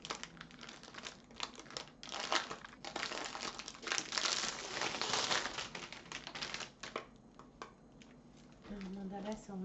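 A large plastic-wrapped diamond painting canvas from Action is unfolded, making loud, close crinkling and crackling that rises and falls for several seconds, and then someone speaks near the end.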